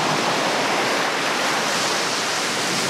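Ocean surf washes steadily onto the beach at Kalaloch, Washington, a continuous loud, close hiss of breaking waves with no pauses and no voices.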